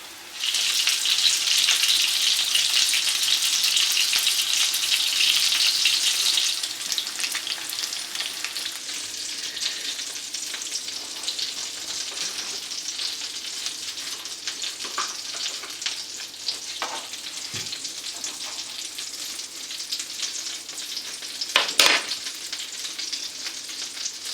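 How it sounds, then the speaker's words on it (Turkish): A ramen noodle burger bun crisps on its second side in a hot oiled pan, giving a loud, steady sizzle and crackle that eases slightly partway through, with a few faint clinks near the end. "Şimdi diğer tarafını pişireceğim. Bu şekilde kızarıyor arkadaşlar bakın"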